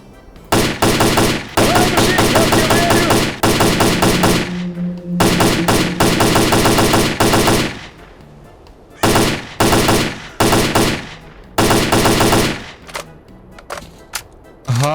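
Rapid bursts of automatic gunfire in the video game S.T.A.L.K.E.R.: Clear Sky, loud and close, repeating in several volleys separated by short pauses.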